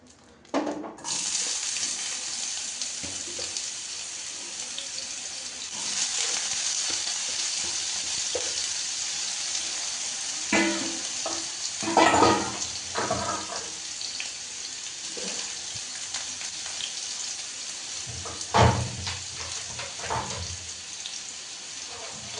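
Potatoes frying in hot oil in a pan give a steady, close sizzle, broken by a few louder bursts of stirring and scraping partway through; no one talks.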